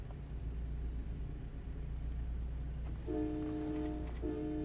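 A semi truck's air horn, voiced like a train horn, sounds two loud, tonal blasts, a longer one followed by a short one, over the steady rumble of the truck's cab on the highway.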